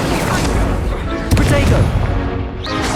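Fire spell cast in the video game Hogwarts Legacy, a loud crackling burst of magical flame with booming impacts over a few seconds, alongside battle noise and a spoken voice.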